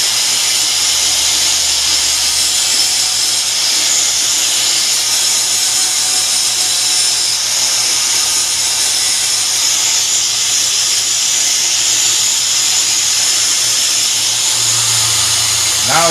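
An angle grinder works steadily on the metal slip tip of a homemade pole spear, grinding it flat. The whine is loud, close and continuous, and it runs for the whole stretch without a break.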